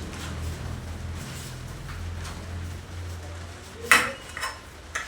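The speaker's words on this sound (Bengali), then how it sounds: "এই আলুটাকে ভালোভাবে সমস্ত যে মশলাগুলো নিয়েছিলাম সেই মশলাগুলোর সঙ্গে ভালোভাবে মিশিয়ে নিচ্ছি" Potatoes being stirred with spices in a pan, a low continuous rumble of frying with a sharp metal clang of a spoon on the pan near the end and a few softer knocks after.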